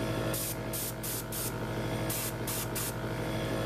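An airbrush sprays white primer onto a miniature in short bursts, two groups of quick hissing puffs separated by a pause, over a steady background hum.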